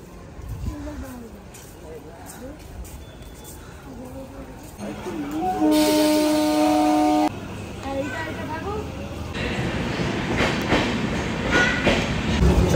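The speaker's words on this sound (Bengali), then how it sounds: "আমাদের ট্রেন চলে এসছে অলরেডি" A train arrives and runs past with rumbling wheels and clattering, and a brief loud tonal horn or whistle sounds partway through. People talk over it throughout.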